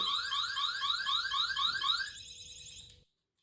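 Anti-theft security tag alarm blaring a continuous warbling, pulsing electronic tone close by for about three seconds before cutting off abruptly into silence.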